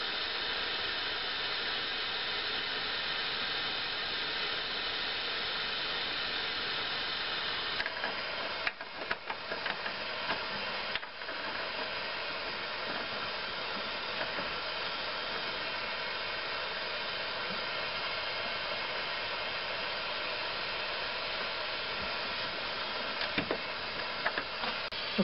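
A torch flame roars as a steady, even hiss while it heats a brake line fitting, continuous throughout with a few faint clicks and taps partway through.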